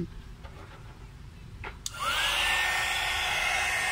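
A 300-watt portable mini heat gun switches on with a click partway through, then runs with a steady, close, loud fan-and-heater whoosh and a faint whine, after a quiet stretch of small handling noises.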